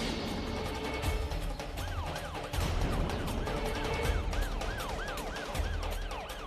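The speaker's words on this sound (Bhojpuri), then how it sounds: "पुलिस की गाड़ी" A police car siren wails in repeated rising-and-falling sweeps over steady background noise and thumps. It sits in a dramatic scene from a Hindi-Bhojpuri TV serial and stays loud throughout, with no speech.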